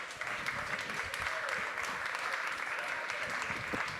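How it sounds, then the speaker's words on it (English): An audience at an economy and tech panel event claps together for a speaker, a dense, even wash of applause holding steady at moderate loudness for several seconds. "Everyone, round of applause for Mark Ein."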